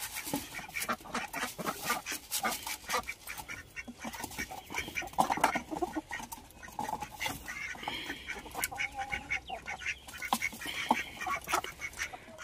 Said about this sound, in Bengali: একেবারে কিন্তু চলে এসেছি হাঁস ধরার জন্য